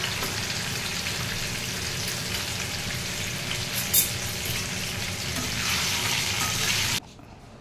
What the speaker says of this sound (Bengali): তেলটা একটু গরম হলে দিচ্ছি পনির,